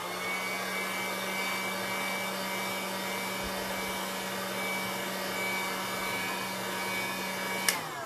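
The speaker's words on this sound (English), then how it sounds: "So I'm just drying this using my heat gun." A heat gun blows continuously at close range, drying texture paste on an MDF panel: a steady, even whirring rush with a constant tonal hum, ending with a brief click.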